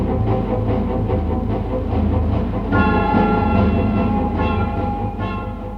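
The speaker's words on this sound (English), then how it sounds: "a Coco electric locomotive from Manchester to Sheffield line represented the very latest" A Co-Co electric locomotive from the Manchester to Sheffield line, heard on a 1956 newsreel soundtrack as a loud, steady rolling rumble with rhythmic wheel clatter and a sustained tonal whine partway through.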